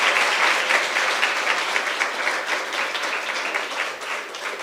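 Sustained applause from an audience at a school's foundation day celebration, steady and dense claps filling the whole stretch, tapering slightly toward the end.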